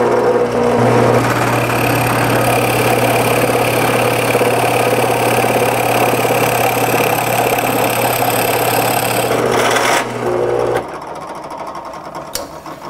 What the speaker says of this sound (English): now I've got my newly sharpened spade bit in the drill press. This is a block of ash